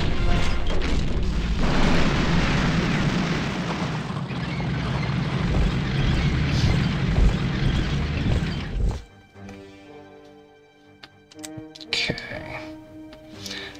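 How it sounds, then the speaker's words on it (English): Bombs hit artillery in the World War II strategy game Panzer General II, a long loud rumbling explosion lasting several seconds, then quieter game sounds and a few sharp hits with faint talk. "They just bombed my artillery."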